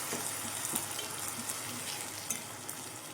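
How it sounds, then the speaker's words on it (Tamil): Tomato paste sautéing in a pan for South Indian fish kulambu (fish curry), giving a steady, close frying sizzle with faint stirring scrapes throughout and no talk. "தக்காளி பேஸ்ட் சேர்த்ததுக்கப்புறம் ஒரு ரெண்டு மூணு நிமிஷம் நல்லா வதங்கட்டும்"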